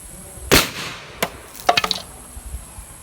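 A homemade plastic bottle rocket launches with one sharp whoosh-bang, followed by a short single knock and then a quick cluster of rattling clacks as it lands, all close and fairly loud with no talking.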